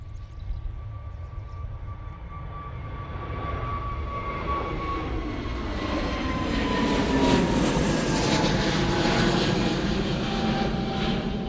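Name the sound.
airplane taking off at Manchester Airport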